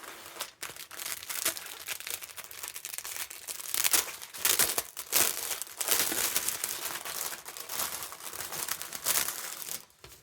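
A plastic packet of diamond art drills crinkles and tears open up close, with steady crackling rustles and a few short pauses, no talking.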